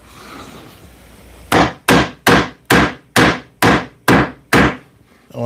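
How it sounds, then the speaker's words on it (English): A hammer drives nails into wood in eight sharp, evenly spaced blows after a quiet stretch of room noise, loud and close with no talking. "Let me tap in these nails"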